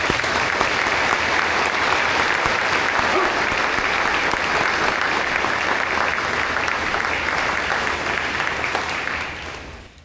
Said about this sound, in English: Please join me in a round of applause for these cornerstone JROTC instructors.